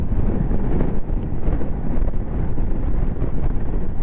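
Strong wind roars loudly and continuously across the microphone while riding a 2022 Triumph Tiger Sport 660 motorcycle, a dense rumbling buffet with no voices.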